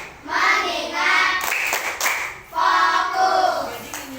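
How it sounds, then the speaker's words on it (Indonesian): Children clapping the "tepuk fokus" rhythm in a classroom, with bursts of close hand claps in short patterned groups, two main phrases separated by a brief pause. "Itu yang namanya tepuk fokus itu sama dengan tepuk menyimak sebenarnya"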